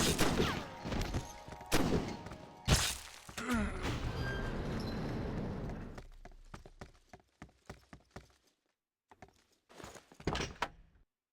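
Gunfire in the action game Syphon Filter: Dark Mirror, with sharp, loud shots cracking over a busy noisy scene, then a string of quieter, spaced single shots and short bursts.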